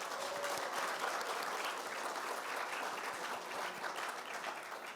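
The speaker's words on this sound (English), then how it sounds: "One more round of applause for them." An audience applauds at the inauguration of the National Press Club's president, a sustained even wash of many hands clapping with no talk over it.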